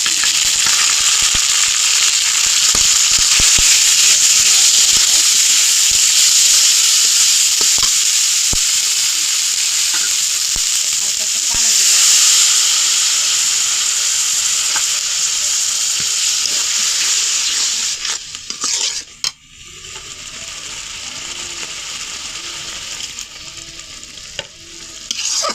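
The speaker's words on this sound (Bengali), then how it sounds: "এখন মশলাটা আমি ভালো ভালো মতো কষিয়ে নিই।" Onion and spice paste sizzles loudly in a hot pan while being stirred, a dense continuous frying hiss with scraping stirs and a brief dip near the end.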